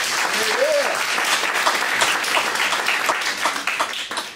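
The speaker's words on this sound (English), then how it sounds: "So let's give him a round of applause." Audience at a Black history event applauding a speaker, steady dense clapping throughout with a brief voice or whistle early on.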